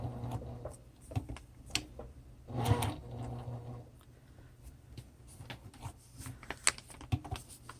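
A home sewing machine stitches a fabric puppet at a fairly wide stitch length, with a soft, uneven ticking and whirring broken into short bursts, close by, and no talk.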